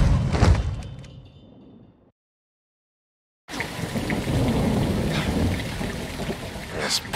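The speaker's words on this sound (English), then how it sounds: "It's raining fucking hard." Heavy rain and thunder in the Modern Warfare II video game: a rumbling downpour fades into a brief complete silence, then dense, loud rain returns with steady hiss and occasional crackling impacts.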